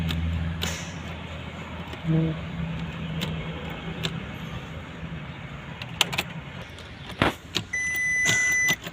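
A Porsche with a flat battery fails to start as the key is worked in the ignition, giving clicks, key jangles and mechanical clunks, then a brief electric whir near the end, all inside the car.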